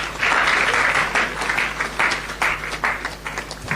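An audience at a youth employability forum at All Nations University applauds a speaker after her talk, a steady wash of many hands clapping at moderate distance, fading slightly toward the end.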